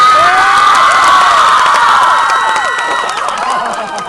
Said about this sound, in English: Too many people were screaming, I wasn't able to hear anything.